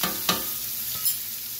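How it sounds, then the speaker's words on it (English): Steak sizzling on high heat in a pan as it is basted, a soft steady fry broken by a couple of sharp scraping clicks from utensils, no voices. "And we'll just continue basting it."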